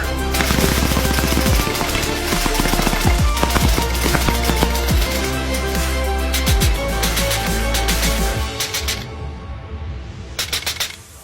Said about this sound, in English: we had a lot of fun shooting the LCS SK19